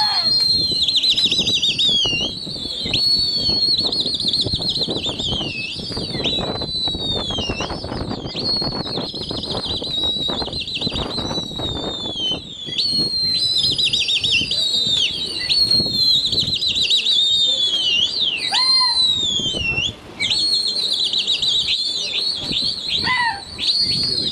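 A flock of pigeons flies overhead with wings flapping continuously, mixed with chirps and high whistling tones throughout.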